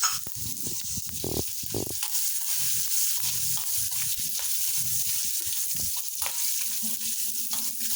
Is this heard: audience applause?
no